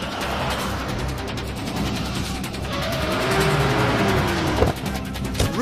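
A car speeds along with a steady, fairly loud engine roar and rising pitch sweeps near the end, a few sharp bumps or squeals breaking in toward the finish.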